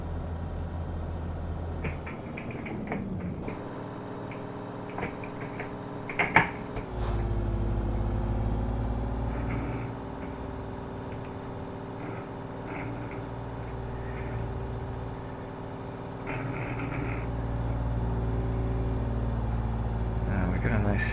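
A heavy truck engine in Euro Truck Simulator 2 drones steadily for the whole stretch, with a short hiss near the start that could be an air brake and several changes in engine pitch. The game audio is fairly loud and holds steady.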